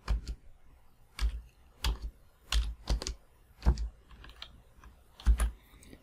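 Keys clack on a computer keyboard at a Windows 10 PC in short, irregular bursts of quiet, close taps separated by brief pauses, with no voices.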